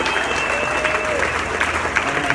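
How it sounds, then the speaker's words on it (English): Crowd applause at a dedication ceremony for the Glenwood Springs police and fire departments, a dense, even clatter of clapping throughout, with faint voices underneath. "I would like applause for Glenwood Springs PD and applause for Glenwood Springs Fire Department"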